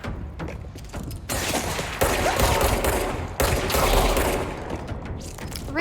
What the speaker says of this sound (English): You're kind of shooting at me.